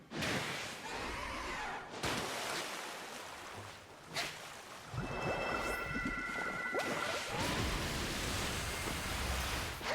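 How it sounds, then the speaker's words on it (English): A Pokémon's Hydro Pump water attack in Pokémon Legends: Arceus, heavy rushing water bursts in loud noisy surges separated by brief breaks, with a thin ringing effect in the middle. "Now that is a Hydro Pump."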